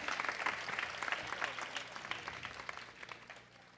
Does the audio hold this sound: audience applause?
yes